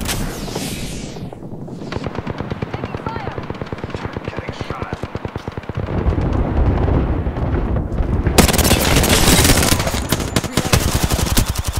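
Rapid automatic gunfire in the Apex Legends video game, a dense rattling stream of shots that grows heavier and louder midway, continuous and close, mixed with game effects.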